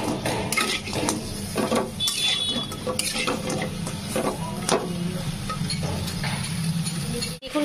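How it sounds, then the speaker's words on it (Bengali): Chicken 65 being stirred in a pan over a low flame, a run of close metallic scrapes and clinks from a utensil over a soft, steady sizzle. "দেখুন 2 মিনিট লো ফ্লেমে নাড়িয়ে নিয়েছি"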